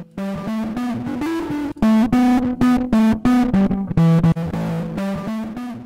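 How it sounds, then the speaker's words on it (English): An electric guitar through a Waves MDMX distortion plugin plays a rhythmic run of gritty, crunchy notes on its own, loud and close. "We have 2 types of distortion."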